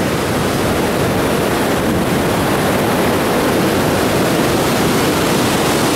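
Dense, steady roar of rushing water, continuous and loud throughout, like a waterfall heard up close with no voices, in Olden, Norway.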